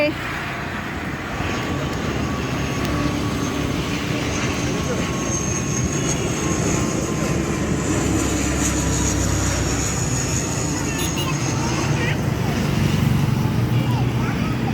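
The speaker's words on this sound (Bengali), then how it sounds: "কি বড় প্লেন দেখো কার মাথার উপর দিয়ে যাচ্ছে" A big airplane passes overhead, a steady broad roar that holds for the whole stretch and swells slightly toward the end, with voices faintly present beneath it.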